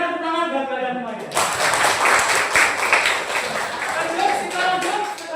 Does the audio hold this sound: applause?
yes